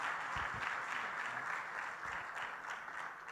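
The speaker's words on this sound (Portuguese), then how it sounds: "Aplauda Jesus" A church congregation at a worship service claps steadily, a dense, lively wash of applause that stays full for the whole few seconds, with no voices standing out.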